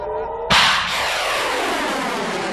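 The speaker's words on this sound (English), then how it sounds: "All it does is send up rockets that explode in the air and don't actually intercept anything." An Iron Dome interceptor rocket explodes in the air with one sharp, loud blast. A long rumbling, crackling tail follows, over steady background noise.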